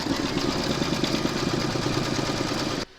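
Embroidery machine stitching zigzag and satin stitch on a domino tile in a 4x4 hoop, a steady rapid mechanical clatter close by that stops abruptly just before the end.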